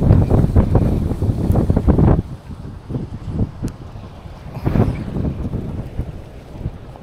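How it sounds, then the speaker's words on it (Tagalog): Strong wind buffets a microphone while fishing at sea, loud rumbling gusts at first, then easing into softer intermittent blasts over a steady background. "Lakas ng hangin"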